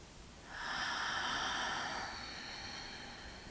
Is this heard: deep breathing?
yes